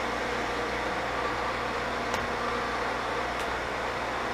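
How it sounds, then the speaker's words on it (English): Boyar Schultz surface grinder motor running steadily with a slightly noisy, broadband whir and hum, continuous and fairly close, with a couple of faint ticks and no talking. "Motor sounds a tad bit noisy, but I don't feel any vibration there in the spindle"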